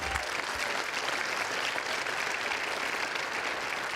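Sustained applause from a crowd at a swearing-in ceremony for new appointees, dense and steady throughout, loud and even with no voices over it.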